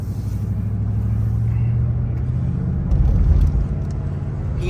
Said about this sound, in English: we're going to take this Mercedes out for a test drive here